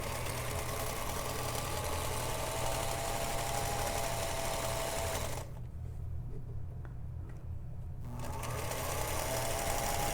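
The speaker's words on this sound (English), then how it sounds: "I'm going to sew this little border strip on the bottom of my panel" A sewing machine stitches a border strip onto the bottom of a quilt panel with a steady, close, motor-driven whir. It pauses briefly for about two seconds midway, then runs again.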